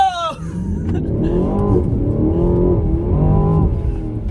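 A $150,000 Alpina XB7 SUV revs hard and accelerates on a snowy, slushy track at Lime Rock Park, its engine rising and falling loudly through the gears as it slides, close and dominant throughout.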